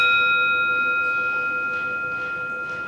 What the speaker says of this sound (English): The first bell is for yourself.